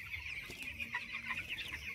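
Twelve-day-old poultry chickens gather at a hopper feeder, filling the space with steady, dense clucking and soft chirping from many birds close by, with no voices.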